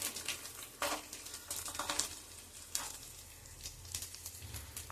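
Chopped vegetables hit a pan of fried ginger garlic paste for a vegetable pulao, producing a soft, fairly faint frying crackle with intermittent scraping stirs and brief louder bursts.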